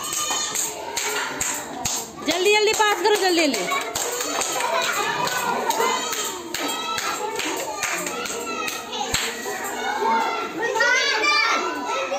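Children in a classroom hand-passing game clap and tap sharply at irregular intervals, the claps sounding among lively children's voices and an adult urging them on.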